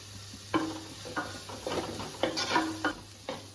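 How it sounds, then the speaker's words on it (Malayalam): Two large thinly sliced onions stirred in hot coconut oil for pepper chicken, a close sizzle with scraping spoon strokes and faint utensil clinks, no voices. "ചൂടായ വെളിച്ചെണ്ണയിലേക്ക് വലിയ 2 സവാള കനം കുറച്ച് നീളത്തിൽ അരിഞ്ഞെടുത്തതാണ്. അതുകൂടി ഒന്ന് ചേർത്തിട്ട് നന്നായിട്ടൊന്ന് ഇളക്കി വെക്കാം."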